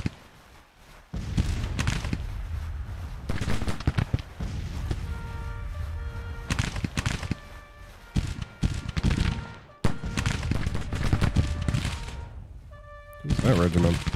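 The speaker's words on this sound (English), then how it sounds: "2nd Ohio just marched straight up to the front of the 28th South Carolina, fired a volley in at like point blank range" Civil War musket volleys at point-blank range in Grand Tactician crackle as loud, ragged bursts of shots and thuds, mixed with battlefield noise and overlaid by someone talking.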